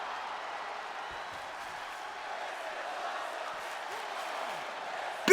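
Arena crowd in the wrestling video game WWE 2K20 at a Survivor Series pay-per-view, a dense, steady roar of massed voices and applause throughout, with a sharper burst at the very end.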